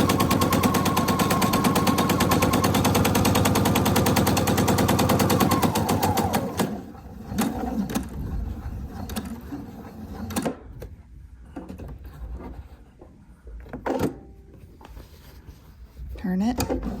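A sewing machine stitches all the way around a fabric square, running in a fast, steady mechanical rattle for about six seconds before stopping. After that come scattered handling clicks and taps, with a voice speaking.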